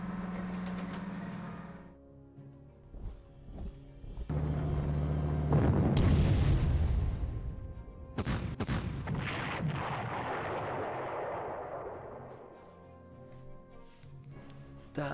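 Artillery fires in the World War II strategy game Panzer Corps on the Maginot Line, with heavy booming shots followed by long rumbling decays, several blasts in sequence, loud and close.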